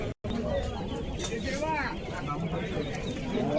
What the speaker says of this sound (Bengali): আজকে বিভিন্ন রকমের কবুতর এসছে, ভালো ভালো, তোমাদেরকে দেখাচ্ছি